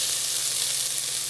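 Celery, onions and carrots sizzle steadily in hot canola oil in a heavy saucepan on medium-high heat, a continuous close hiss that briefly swells near the end.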